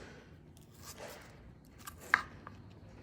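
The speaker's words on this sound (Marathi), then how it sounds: "या ठिकाणी आपण ढोबळी मिरची कापून घेणार आहोत" A knife chopping bell pepper (capsicum) on a board: a few quiet, scattered cuts close by, the sharpest near the end, over a faint background.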